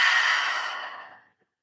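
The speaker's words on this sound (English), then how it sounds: "open your mouth and exhale" A single deep exhale through an open mouth during a yoga breathing exercise, a soft breathy rush that stays steady, then fades out over about a second and a half, close and alone with no talk.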